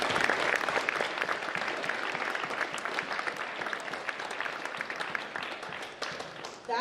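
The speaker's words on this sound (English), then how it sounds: "let's applaud these students for their dedication to everything they're in" An audience at an academic awards ceremony for students breaks into sustained applause, dense clapping that starts loud and tapers slightly over several seconds, with a faint voice near the end.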